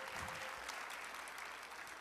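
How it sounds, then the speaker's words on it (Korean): Audience applause at a talk concert on building cities for future generations, a steady wash of clapping from a crowd heard at a distance, fairly faint and continuous for two seconds. "여러분 다시 한번 큰 박수 주세요."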